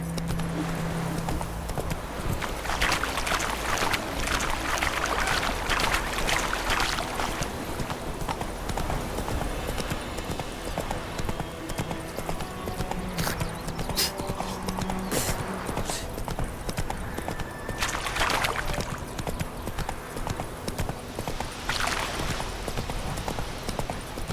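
Roach, Geralt's horse in The Witcher 3, gallops with a loud, continuous, rhythmic clip-clop of hooves over a dense game soundscape, with a brief faint whinny-like sound and no clear talk.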